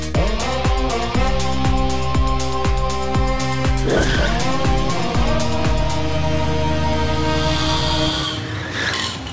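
A car chasing an auto-rickshaw, with long drawn tire squeals and a strained, revving engine, loud and close over a movie scene's music and effects, ending in a hiss of skidding.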